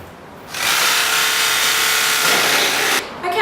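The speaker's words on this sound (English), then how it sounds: "So now you just need to take the saw and saw along the inside of each line." A loud, steady mechanical whine of a Bosch power saw cutting through wood for a newspaper rack, running for about two and a half seconds before cutting off.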